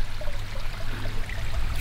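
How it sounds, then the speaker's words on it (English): A small stream in a state park trickles steadily into a little waterfall, a soft continuous babble with faint bubbling at close-to-moderate distance over a low rumble. "got a little bit of water flow here"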